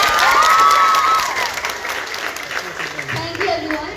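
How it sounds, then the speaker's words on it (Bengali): Loud, sustained audience applause at a felicitation programme for IIT and NEET qualified students, strongest at the start and easing slightly, with voices speaking over the clapping throughout. "আজকে এখানে একটু জোরে হবে হাততালি"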